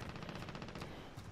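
Rapid, steady burst of light machine gun fire in a first-person shooter video game, continuous rhythmic shots filling the whole moment, loud and close with no talking.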